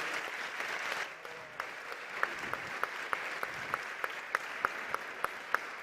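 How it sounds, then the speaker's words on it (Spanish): A conference audience applauds the Venezuelan ambassador, a sustained wash of many hands with a few sharp, distinct claps standing out near the front, fairly quiet overall. "Le damos un aplauso."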